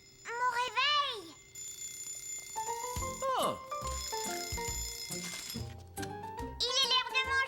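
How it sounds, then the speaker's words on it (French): A cartoon alarm clock in a Caillou episode rings with bright, bell-like chimes in short repeated bursts over background music. A voice gives a brief exclamation. "Mon réveil."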